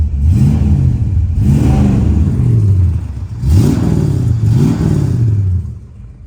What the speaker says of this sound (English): Get in here, give it a little rev.